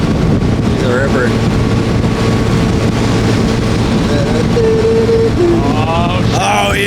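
An old 1967 Sears boat motors through choppy water, its engine droning steadily under heavy wind buffeting and splashing, with a few brief whoops and voices rising over the noise.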